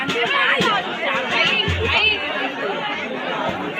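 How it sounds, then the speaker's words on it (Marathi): Dense crowd chatter at a Konkan wedding, many overlapping voices babbling close by in a steady unbroken hubbub. "गर्दी भरपूर आहे बहुतेक"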